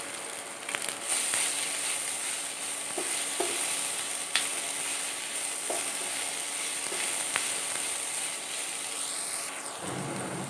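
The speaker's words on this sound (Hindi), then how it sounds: "प्याज को सॉफ्ट होने तक हम ऐसे ही भुनेंगे" Five thinly sliced onions sizzle steadily in a hot pan for an aloo lachcha paratha, a close, continuous hiss with a few scraping stirs and clicks scattered throughout.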